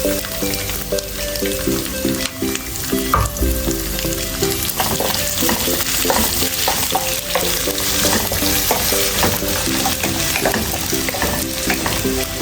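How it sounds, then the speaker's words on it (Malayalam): Thin strips of ginger and garlic sizzle loudly in hot oil in a pan for Kerala clam thoran, with steady crackling and occasional stirring scrapes throughout and no voices. "അതിലേക്ക് ചെറുതായിട്ട് നീളത്തിൽ അരിഞ്ഞു വെച്ചേക്കുന്ന ഇഞ്ചി വെളുത്തുള്ളി ഇട്ട് കൊടുക്കാം."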